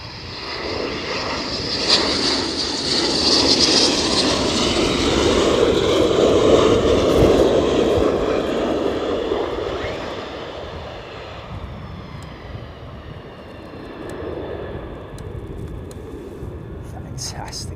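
A military jet roars past at RAF Lakenheath, where F-15 Strike Eagles and F-35s fly, its loud engine noise swelling to a peak and then slowly fading into a distant rumble.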